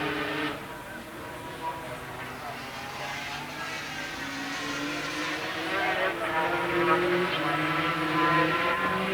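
Production superbikes, a Suzuki and a 3-cylinder Honda, race at Donington Park in 1984, their engines droning and rising in pitch as they pass, with the drone swelling toward the end under steady commentary talk.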